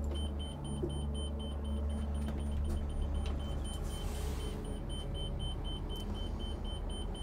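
Steady high-pitched electronic warning beeps from a 2022 Newmar Ventana motorhome, signalling its leveling jacks are down, repeat above a low idling engine rumble, with no voices.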